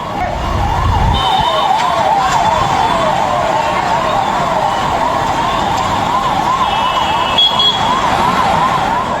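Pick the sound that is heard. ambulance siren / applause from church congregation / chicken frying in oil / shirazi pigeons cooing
ambulance siren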